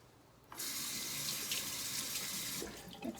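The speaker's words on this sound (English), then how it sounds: "Rinse my hand off." A tap runs as a hand is rinsed during a yarn-dyeing session. Water rushes on steadily and close for about two seconds, then cuts off, leaving a few soft drips and handling sounds.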